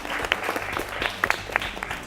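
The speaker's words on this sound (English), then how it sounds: "let's applaud for all their efforts" An audience at a national quiz competition claps for the competing teams. The applause is a fairly sparse patter of individual hand claps, moderately close, with no voices over it.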